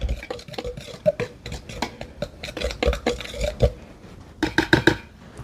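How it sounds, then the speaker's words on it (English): A whisk stirs baking soda and salt in a bowl, giving quick repeated scraping taps against the sides, close and distinct, with a few brighter metallic clinks near the end. "I'm going to whisk that together."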